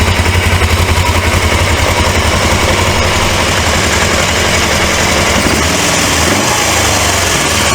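A 1980s Suzuki GS 450A automatic motorcycle engine runs loud and steady at close range, a dense rough drone with an ongoing grinding quality and no voices.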